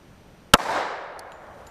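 A single sharp gunshot from an RIA Ultra Tac pistol firing a .45 Super 250-grain load, loud and abrupt, followed by a short decaying echo and then quiet.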